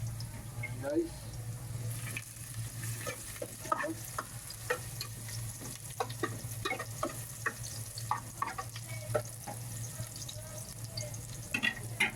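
Garlic sizzles and fries in a pan, a steady close crackle with scattered stirring scrapes and clinks, while a low background hum continues throughout, with no talking.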